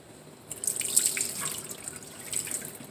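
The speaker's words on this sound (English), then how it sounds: "But right now I'm going to give them a little rinse." Fresh organically grown tomatoes rinsed under a running tap, a close splashing water stream with drips and gurgles that rises and falls.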